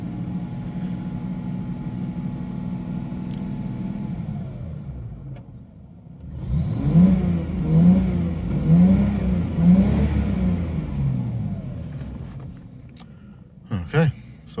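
A Jaguar XJS V12 fitted with an AJ6 Engineering TT extractor idles smoothly, then is revved several times to around 2000 rpm in rising and falling pulses, heard from inside the car before settling back to idle.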